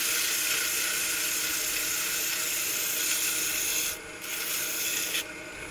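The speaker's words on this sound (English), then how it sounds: "come in and sand the other side just a little bit" Sandpaper is pressed against a wooden napkin ring spinning on a wood lathe. It makes a continuous close hiss, with the rubbing easing briefly near the end, and no talk.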